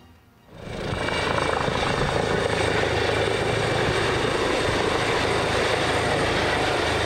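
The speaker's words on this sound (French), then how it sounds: "Avec l'hélicoptère, on peut voler jusqu'à force 10." A pilot-transfer helicopter flies in the Gironde, its steady, loud rotor and engine roar swelling in after a quiet half second and holding close and constant to the end, with no voices.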